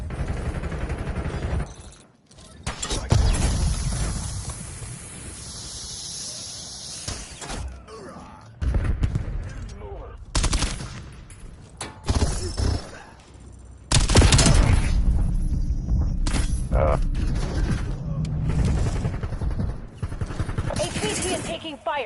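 Bursts of gunfire and mechanical clatter during a video game firefight, with dense shooting that comes and goes around short quiet gaps, mixed with voices and game sounds.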